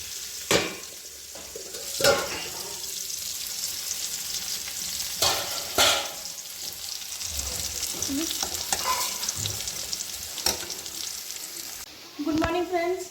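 Vegetables sizzle in hot oil in a pan with a continuous crackling hiss, punctuated by several sharp utensil knocks and scrapes from stirring, all close and fairly even in loudness.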